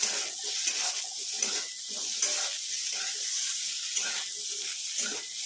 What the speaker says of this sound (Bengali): এটা একটু এরকম জোরে আঁচ দিয়েই আমি এবারে এটাকে ভালো করে ভেজে নেব